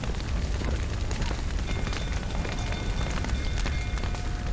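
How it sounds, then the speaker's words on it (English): Fire spreading through a building in a video game, thick with smoke: a continuous roaring rumble with scattered crackles and pops, steady and moderately loud, with no voices. "Fire's spreading. Damn it, lots of smoke."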